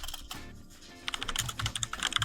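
Keys clatter on a computer keyboard in a quiet room, starting sparse and soft, then picking up into a quick, irregular run of close, crisp taps.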